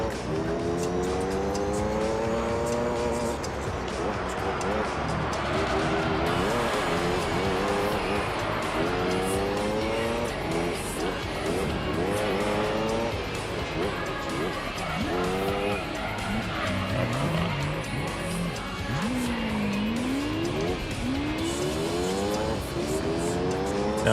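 Race car engine in Gran Turismo 3: A-Spec, loud and continuous, revving up and down through repeated gear shifts with bursts of tire squeal and skidding.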